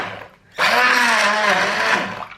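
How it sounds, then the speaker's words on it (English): A handheld stick blender kicks in abruptly after a brief quiet moment, whirring loudly and steadily as it purées cooked soup, with a slight wavering pitch as the blade churns. "Here I have a stick blender. It's going to get noisy."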